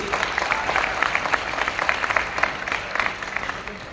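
Audience applause fills the moment, a dense continuous clatter of many hands clapping at steady loudness for the full few seconds, with no voice standing out.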